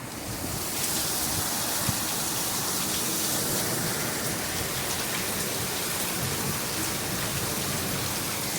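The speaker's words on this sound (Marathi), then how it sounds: "आपला बाग बाहेर किती पाऊस आहे ते" Heavy, steady rain pours down outdoors in Mumbai, India, during a storm with wind, a dense broadband hiss drumming on surfaces with a constant roar and no voices.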